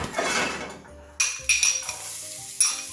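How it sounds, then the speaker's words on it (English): Garlic cooks in leftover bacon grease in a pan, with a sizzle under sharp metal clinks and scrapes of a utensil against the pan. Several distinct knocks come close and loud, with no talking. "You need to keep a little bit of grease because I'm going to cook the garlic up now"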